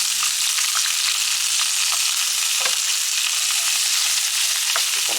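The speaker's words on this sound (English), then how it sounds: "Just want to fry that off a little bit." A medium brown onion, peeled and sliced, fries in a pan with a steady, close sizzle and crackle, a few louder pops and stirring scrapes breaking through the continuous hiss.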